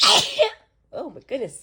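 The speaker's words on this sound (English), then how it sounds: "I feel a sneeze coming on" A person sneezes once, close and sharp, right after a brief exclaimed remark, followed by a short murmured voice afterward.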